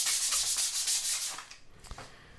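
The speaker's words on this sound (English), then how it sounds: "at this point, I'm sanding down the edge finish" Sanding of the wooden frame edge finish for a dance pad, a close rhythmic run of rasping strokes that slows into a few scattered scuffs and a light knock.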